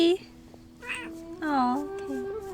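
A pet cat meows several times in short rising and falling cries, close and clear, with quiet room tone between the calls.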